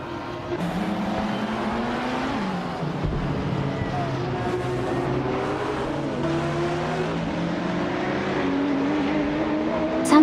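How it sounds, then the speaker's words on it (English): AI-driven race cars roar through a video game race, several engines overlapping in a loud, continuous whine whose pitch climbs and drops with gear changes throughout. "Hope you're ready to see some exciting AI car racing."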